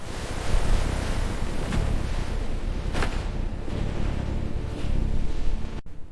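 Rough ocean surf crashes and churns continuously under gusting wind buffeting the microphone, a dense, stormy roar with occasional surges.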